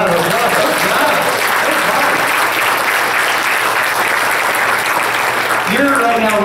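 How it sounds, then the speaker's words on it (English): Audience round of applause at a church service, a dense steady clapping wash that fills the whole stretch at close range, with a few voices briefly rising near the end. "let's give a round of applause"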